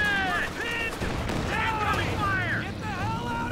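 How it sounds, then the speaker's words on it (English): Artillery barrage in a tank video game, a dense, continuous rumble of gunfire and explosions, loud throughout, with excited voices talking over it. "Artillery barrage. Careful."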